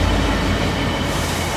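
A Class 66 diesel locomotive, number 66770, rumbles past at close range, a loud, steady roar of engine and rolling wagons with a dense low-frequency drone and no voices.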